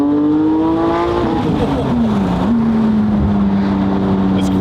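A sports car engine revs loudly from inside the cabin while driving, its tone climbing, dropping through a gear change, then pulling steadily again, with no speech over it.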